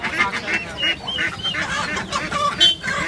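Turkey chicks at a pet market in Uluberia give repeated high chirps and peeps close by, mixed with other fowl calls and a busy market background, with a voice talking over them.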